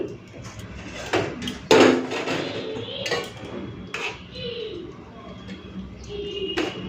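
Metal lid set onto a pot of soybean-laden khichuri in a home kitchen: a single sharp clank stands out near 1.8 seconds amid softer scraping and handling clatter nearby.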